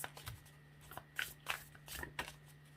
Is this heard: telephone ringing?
no